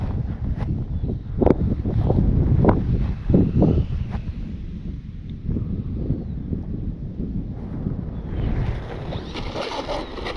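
Gusty wind buffets the microphone outdoors at a remote-control model jet flying field, rising into rough bursts and then easing off to a lighter rush.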